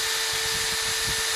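A Pro Stormer 20V brushless hammer drill rated at 45 Nm, running steadily at close range, giving a continuous high-pitched motor whine with a faint low rumble underneath and no talking.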